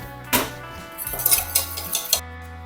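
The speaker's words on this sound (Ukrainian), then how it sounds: "Все гарно змішуємо вінчиком." A whisk clinks and rattles quickly against a bowl, mixing a starch mixture, in short, irregular bursts, fairly close and moderately loud, with no talking.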